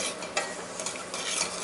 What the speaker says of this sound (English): It's going to start sizzling.